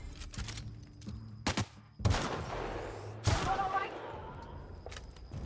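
Gunfire from The Outer Worlds game on Supernova difficulty: several sharp shots, a few quick single cracks followed by two heavier booming reports with ringing tails, over a steady game background and some talk.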